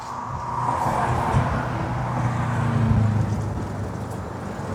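EZ-Go RXV golf cart with a reprogrammed controller driving off, a steady motor and road hum that swells as it speeds up, then holds, with no voices.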